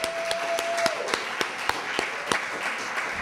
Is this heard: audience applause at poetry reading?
yes